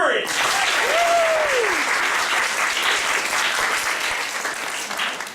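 A theater audience at an improvised Brothers Grimm stage show claps together in sustained, loud applause that fills the hall. A short rising-and-falling whistle or vocal tone cuts through near the start.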